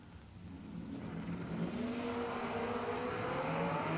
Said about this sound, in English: Will in the Malibu, Ben on the Kawasaki.